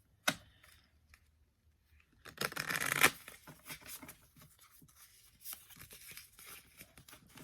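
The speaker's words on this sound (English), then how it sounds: "they're still kind of difficult for me to shuffle all in one stack" Small tarot cards being shuffled by hand in a quiet room: a single flick near the start, then a dense burst of riffling and soft slaps, followed by lighter scattered card shuffles and taps.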